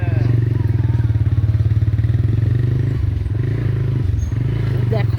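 A motorcycle rides along a road with its engine note running steadily and loudly close by throughout, along with a few clatters and thumps.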